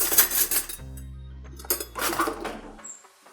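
A spoon and fork being picked up, with bright metallic clinks and rattles of cutlery up close in a kitchen, a few quick chinks spread over the moment.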